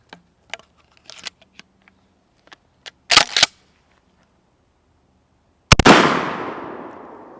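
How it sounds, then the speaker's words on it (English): Shotgun fired with American clay target shells at aviator-style sunglasses: a few faint clicks and handling taps, then a sharp double report and a single loud blast that rings out and decays for over a second. "got some American clay target shots, so let's see what it does to Johnny."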